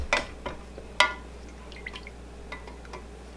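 Liquid is poured and splashed in small amounts while scented candles are made, giving a few sharp drips and splashes spaced apart over a low steady hum.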